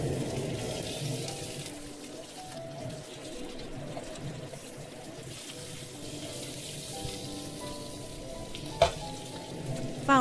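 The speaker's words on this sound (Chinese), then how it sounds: "加入羊排，" Lamb chops fry in well-heated oil with a continuous, watery sizzle and low hum that holds steady, then ends in a couple of brief clanks.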